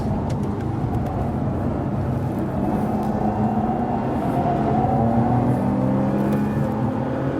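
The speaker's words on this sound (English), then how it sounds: "I'm driving the most extreme Bentley" A Bentley Continental Supersports engine drones loudly and continuously while driving the Nurburgring, a dense rumble with rising pitch tones as it accelerates.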